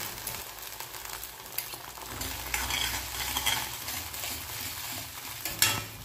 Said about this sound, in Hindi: लो फ्लेम में अच्छी तरीके से हम इसे मिक्स कर लेंगे